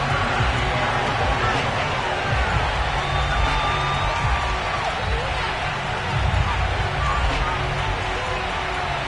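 Stadium crowd cheering at a Baltimore Ravens home game against the Kansas City Chiefs in an EA Sports football video game, a steady dense roar of massed voices that holds loud throughout with occasional whoops rising out of the din.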